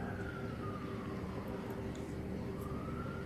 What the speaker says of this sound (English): the sirens are going a little loud today.